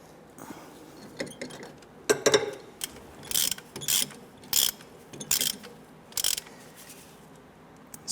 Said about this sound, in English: go ahead and put our socket on that upper bolt here. Let's tighten that down.